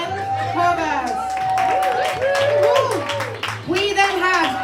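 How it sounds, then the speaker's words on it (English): Crowd at a poetry and music event for Palestine applauds and murmurs, the clapping a busy texture under a speaking voice and a steady sustained tone. "Please give a big round of applause for Gabby."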